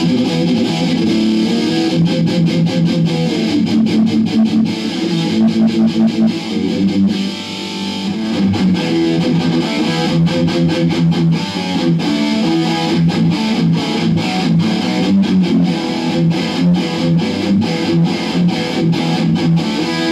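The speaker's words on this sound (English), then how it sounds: "Really cool, you know, death metal tones." Electric guitar played through a JH-3 overdrive/distortion pedal with mids scooped for a death metal tone, loud and sustained with dense palm-muted riffing and rhythmic chugging throughout, no talking.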